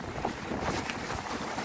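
Strong morning wind gusting in the open, a loud dense rushing roar with buffeting microphone rumble throughout, steady and unbroken.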